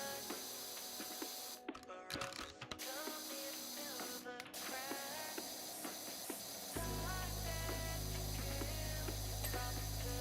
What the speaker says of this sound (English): Got to get the right extension on the old power washer.